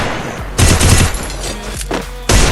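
Automatic weapon fire in the Free Fire battle royale game, loud close bursts of rapid shots with a brief pause, then another burst starting at the end.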